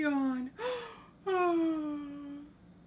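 A voice imitates a yawn: a long drawn-out vocal sigh falling in pitch, broken by a short breathy gasp, then a second longer descending yawn, close and clear.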